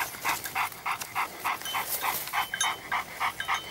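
A hunting dog on a wild boar hunt pants close by in quick, even, rhythmic breaths, about three per second, with no talking over it.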